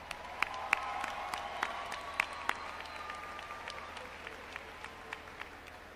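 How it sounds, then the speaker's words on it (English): Scattered applause from a modest crowd at a 2010 high school graduation, with individual sharp claps standing out over a steady rustling patter that gradually thins. "Please join me in giving each of our speakers a very fine round of applause."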